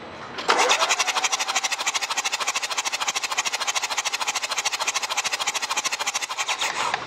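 A flood-damaged BMW 520d diesel engine cranks with a fast, steady rhythmic churning that runs for several seconds without quite catching, loud and close.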